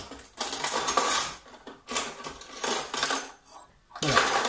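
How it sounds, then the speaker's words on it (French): A metal fork is picked up from a clutter of kitchen utensils, giving bursts of bright clinking and rattling metal in several close, loud clusters separated by brief pauses, with no talking. "Je récupère une fourchette."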